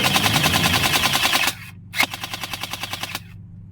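A toy water suction gun fires in rapid automatic bursts with a muffled, suppressed sound. Two bursts of quick repeated pops are separated by a short gap, loud and close with no talking.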